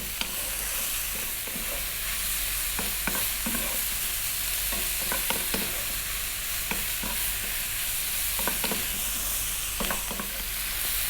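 A spoon scrapes in repeated strokes through pasta sauce with oregano sizzling in a hot pan, the stirring rhythm sitting over a constant, close frying hiss.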